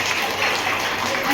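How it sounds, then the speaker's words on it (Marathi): An audience at a women's haldi-kumkum gathering at a police station claps in a dense, steady wash of applause, loud and close, lasting the whole moment with a faint murmur of voices underneath. "तर स्वतःसाठी जोरदार टाळ्या म्हणतो."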